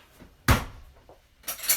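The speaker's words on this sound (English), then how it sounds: "all I'm doing is I'm spooning that in to my baking dish" Pasta al forno being spooned into a baking dish: a sharp clank of spoon on dish, a few soft scrapes, then another rattling knock, close and fairly loud with no talk.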